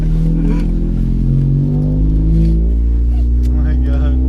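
A heavily modified, very loud Honda car engine revving hard up close, a thick droning roar that rises and holds with slight pitch shifts over about four seconds.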